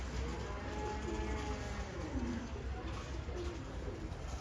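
Pet pigeons let out of their coop into the sun: low, soft cooing phrases repeated close by over a steady background rumble.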